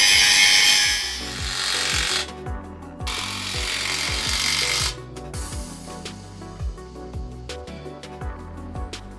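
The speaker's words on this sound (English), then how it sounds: "We've been through 6 batteries, drilling 6 holes." A cordless power drill whines and bogs down repeatedly while boring holes for a sign post, its motor pitch sliding up and down, close and loud.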